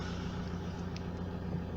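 A Vauxhall Insignia with a glow plug fault idles steadily with the bonnet open, a low, even engine hum that stays constant throughout and has no voices over it.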